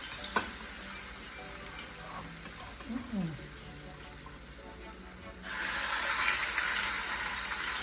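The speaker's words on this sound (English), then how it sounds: "We put some oil in the pan and we're gonna go ahead, because it's hot enough, and we're gonna put these in" Food is added to hot oil in a pan: a quiet kitchen hiss first, then the frying sizzle swells loud and steady for the last few seconds.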